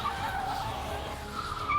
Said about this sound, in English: The turbo blow-off valve, the exhaust, it's all just so satisfying.